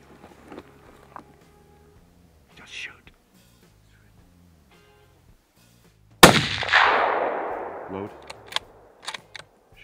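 A rifle shot during a bear hunt in British Columbia, one sharp loud crack that decays into a long echo, preceded and followed by hushed whispering voices nearby.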